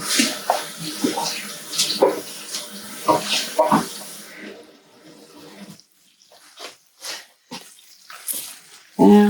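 Water squirted from a baster into a hot baking pan in a home oven. It makes a splashing, trickling pour for several seconds and is followed by short bursts of clatter and handling noise, with a voice speaking briefly.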